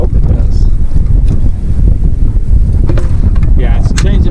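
A starter motor cranks a small Kubota diesel engine outdoors, making a loud, continuous, churning rumble mixed with wind buffeting the microphone.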